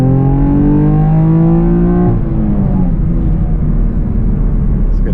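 A Chevrolet Camaro RS V6 1LE pulls hard in second gear from 4,000 rpm, the engine note climbing loud and close from inside the cabin before a shift, then settling into a lower rumbling drone.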